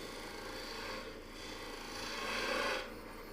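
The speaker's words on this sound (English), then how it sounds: "I'm going to switch to a smaller spindle gouge and come around the corner here." A small spindle gouge cuts a spinning wooden coffee scoop on a lathe, giving a continuous close rasping hiss that swells and fades as the tool works around the cup's corner.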